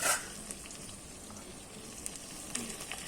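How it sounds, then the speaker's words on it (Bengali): Meat and potatoes fry and sizzle in a pan, a soft steady crackle with occasional scrapes and clinks as the mixture is stirred, heard close and alone. "আলু দিয়ে ভালো করে মাংসটা আবার কষিয়ে নেব।"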